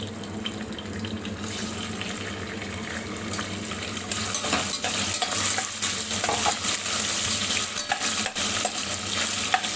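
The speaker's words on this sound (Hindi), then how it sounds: "अब इसमें हम डालेंगे कटे हुए पनीर।" Chopped paneer frying in a pan makes a continuous sizzle that swells louder partway through, with stirring scrapes and a watery, hissing texture.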